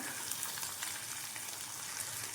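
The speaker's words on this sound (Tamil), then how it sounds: "இப்போது இதெல்லாம் நல்லா வதங்கட்டும் ஓரளவு மீடியமாக வதங்கட்டும்" Ginger and garlic, several large cloves, sauté in hot oil in a pan for a black chickpea kulambu, giving a soft, steady sizzling hiss that stays even and fairly faint throughout, with no talking.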